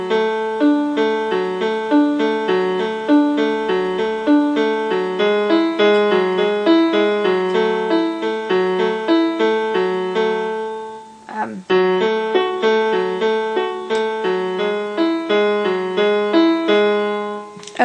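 Easy piano arrangement of the verse of a song, steady broken-chord accompaniment with a melody line over it, played continuously and clearly with a brief hitch near the middle, no voice.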